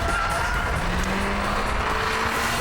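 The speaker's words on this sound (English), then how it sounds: "The self-driving Golf was developed to be the ultimate test driver" A self-driving Volkswagen Golf test car runs laps on a track, its engine and tyre roar loud and constant, with a steady drone throughout.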